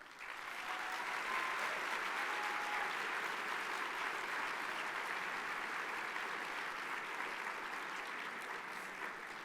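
Gala audience applauds in a long, steady roar of many clapping hands, continuous and fairly distant, without speech.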